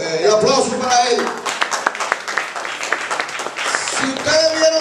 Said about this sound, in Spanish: El aplauso para él.